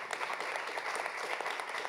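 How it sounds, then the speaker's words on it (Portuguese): An audience at a live broadcast of an Amnesty International annual report event gives dense, continuous applause, fairly faint and distant, with no talking over it. "Sabrina Martina, uma salva de palmas"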